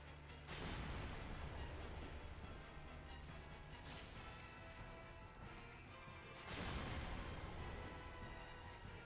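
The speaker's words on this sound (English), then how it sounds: "It's just explosion." Explosions in a Dark Souls Remastered boss fight hit as loud, broad crashing booms, one near the start and another about six seconds later, each followed by sustained rumbling noise.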